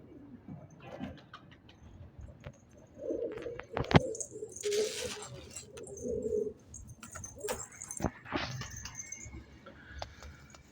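Homing pigeons coo repeatedly inside a loft with several breeding pairs on eggs, soft throaty calls rising and falling over about ten seconds, with occasional wing flutters and small clicks nearby.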